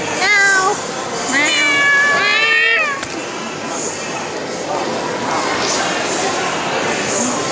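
A child mimics a kitten's meow in a home setting, giving several high, wavering mewing calls in the first three seconds, close and fairly loud, before the clip settles into steady background noise.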